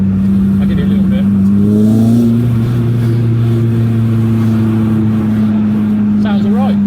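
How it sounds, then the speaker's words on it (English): Renault Clio 182 Trophy fitted with fast road cams, its engine droning steadily while driving through a village, then burbling and crackling on the overrun near the end, continuous and close. "Get a little bit of burbling from the overrun."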